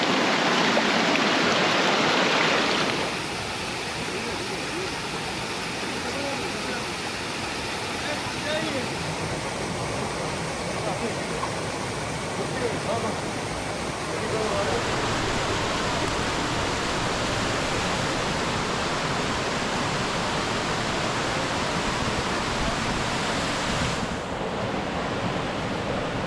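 Deojhar waterfall roars in a continuous, dense rush of falling water heard up close, steady and loud for the whole stretch, with a brief shift in tone at the very start and near the end.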